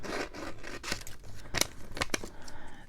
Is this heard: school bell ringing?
no